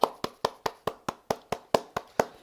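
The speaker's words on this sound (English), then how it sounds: "Let's get a Tenderonis round of applause." A single pair of hands claps about a dozen times in an even, steady rhythm, close and crisp, with no voices.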